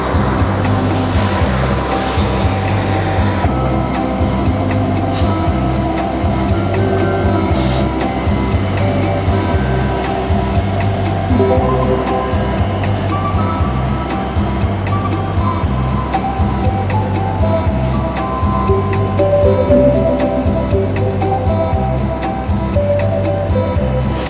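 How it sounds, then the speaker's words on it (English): A light locomotive set rolls under a bridge with a loud, steady rumble and rhythmic pulsing throb, a brief wheel squeal near the start, and the sound stays close and continuous throughout. "that light power set that promptly came by running under the bridge I was on"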